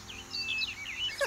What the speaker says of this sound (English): Just listen to all the pretty birds singing.